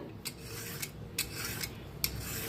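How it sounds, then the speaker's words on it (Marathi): Ridge gourd is grated by hand in a home kitchen: repeated close rasping strokes scrape across the grater at an uneven rhythm, with no talking. "आता दोडकं किसून घेऊया।"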